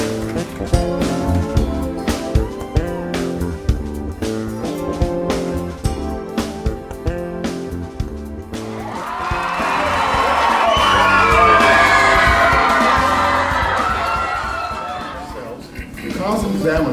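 Student audience at a STEM event bursting into cheering, whoops and applause, swelling into a loud crowd roar that follows music and fades out.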